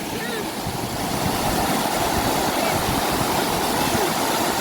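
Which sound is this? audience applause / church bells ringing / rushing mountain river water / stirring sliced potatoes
rushing mountain river water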